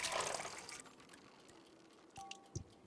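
Water is poured in the cosy video game Wanderstop, a faint brief splashing trickle at first that fades into a few soft drips and small clinks.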